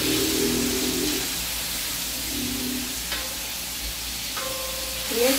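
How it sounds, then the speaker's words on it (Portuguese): Beef liver strips sizzle and hiss on a hot plow disc, stirred with occasional scraping clinks of a utensil, steady close frying throughout. "agora é só misturar para fritar bem aqui o nosso fígado"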